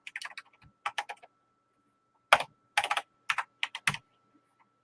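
A Tandy 1000TX computer keyboard is typed on in short, irregular bursts of crisp key clicks separated by pauses, close and clear.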